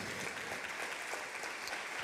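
Steady applause from a church congregation during a sermon, a dense even wash of many hands clapping at moderate level with no talk over it.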